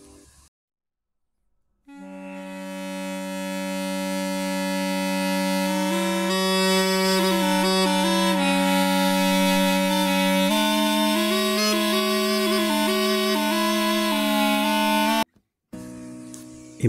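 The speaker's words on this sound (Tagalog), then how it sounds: "Tawag dito ay aulos or tibia in Latin, meaning flute or double flute." Aulos, the ancient Greek double flute, plays a sustained reedy drone under a shifting melody line with a buzzy, nasal timbre, loud and continuous after a short silence, then cutting off near the end.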